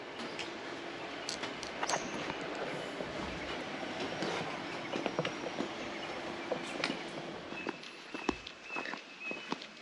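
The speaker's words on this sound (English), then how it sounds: "Yep, we are doing the Karri Forest Tram." Riding aboard the Karri Forest Tram through forest near Pemberton, a continuous rumbling roll on rails with rhythmic clicks and occasional sharp squeals, fairly close and steady, easing off toward the end.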